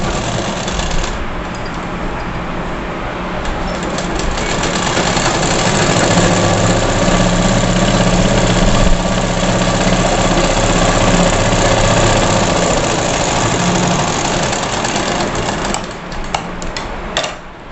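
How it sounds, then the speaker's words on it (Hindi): Electric sewing machine running steadily as two flared skirt panels of a girl's frock are stitched together, a continuous loud motor hum with rapid mechanical ticking, tapering off near the end. "दोनों घेर की पहले हम एक में सिलाई कर लेते हैं"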